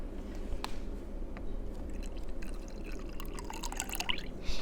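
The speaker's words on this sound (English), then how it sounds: "And next, I have to pour the cup of water." Water from a cup is poured into a slime mixture, giving soft trickling and dripping sounds close by, fairly quiet, with no talking.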